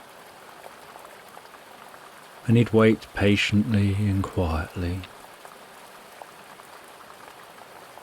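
Steady rain patters softly in the background throughout, a constant gentle hiss, while someone speaks calmly in the middle section.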